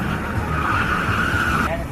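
Racing karts drive on the Sri Lanka Karting Circuit at Bandaragama during a six-hour endurance race, giving a steady, loud engine whine with a sustained high tone that stops abruptly near the end, while a commentator talks over it.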